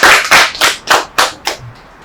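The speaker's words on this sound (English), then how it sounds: "I think you deserve a round of applause." Five or six short loud bursts of applause at a university collaboration event, rising and fading in a rhythmic wave pattern, close and dense with hands clapping together and no speech over them.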